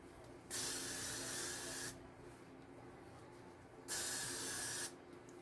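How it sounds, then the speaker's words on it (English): Hairspray hisses onto hair in two close, fairly loud bursts, each lasting about a second or more, with a short quiet pause between them. "Just spray your hair. Just spray it."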